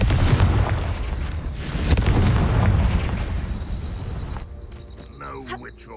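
A fire-spell explosion from the Hogwarts Legacy video game bursts loud and broad at once, then rumbles and fades over several seconds while a voice and game sounds continue around it.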